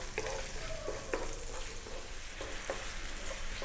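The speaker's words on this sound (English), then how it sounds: "In goes that garlic. And we're going to go just for about 2 minutes on a high heat." Garlic frying in a pan over high heat, a steady broadband sizzle with a few short utensil clicks and scrapes as it is stirred, fairly quiet and continuous with no voices.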